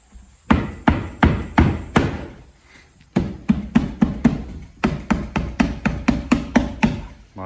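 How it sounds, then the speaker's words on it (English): Repeated hammer blows drive a back panel into a DIY TV/AV cabinet: two bursts of sharp, close, rhythmic thuds, a slower group of about six strikes, a pause, then a faster run of a dozen or more. "Then you can hammer it in."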